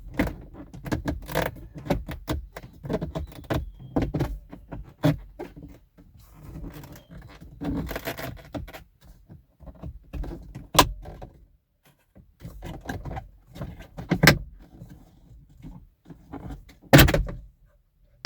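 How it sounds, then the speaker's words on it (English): Plastic clips on a Kia Sportage instrument cluster cover snap and pop free as the cover is pried off, with sharp clicks scattered over about eighteen seconds amid rustling and handling noise, several louder snaps standing out near the end. "It's held in place by 4 clips near the top, so apply even pressure as you release them to avoid breaking the clips of the cover."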